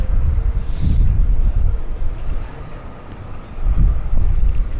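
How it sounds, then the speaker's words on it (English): Gusty wind buffets the microphone on a sunny, cold city street near Canal Street, coming in uneven low roaring surges with faint traffic beneath. "Blustery, very windy."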